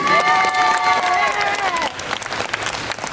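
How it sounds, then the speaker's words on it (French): An audience claps steadily and loudly at a Lyon beauty pageant, with cheers and voices over the applause that thins out after about two seconds. "Regardez vos amis qui vous applaudissent"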